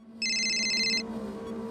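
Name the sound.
phone ringing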